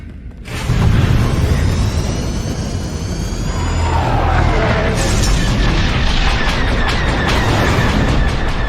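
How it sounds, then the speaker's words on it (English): A bomb explosion in Star Wars: The Old Republic bursts loudly after a brief quiet, then a sustained roaring rumble with whistling, jet-like streaks continues for several seconds. "Bomb incoming!"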